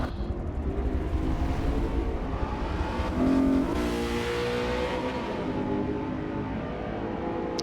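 Race cars roaring past at Brands Hatch in a racing game, engines revving and rising, with one car sweeping close by mid-way before the sound settles into a continuous loud drone of several cars.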